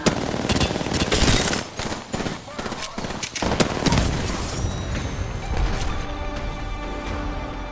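Heavy automatic gunfire from the Apex Legends battle royale game, dense bursts of shots and impacts crowding the first half, then thinning under game music and voices toward the end.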